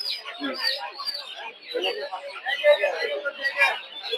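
Tiger chickens cluck and chatter at a busy poultry market at Putia haat in Shibpur, Narsingdi, a dense mix of bird calls blended with nearby people's voices.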